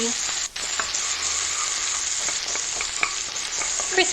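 Food sizzles and crackles steadily in a frying pan, a dense continuous hiss with scattered pops and a few light stirring clicks, close and unbroken throughout.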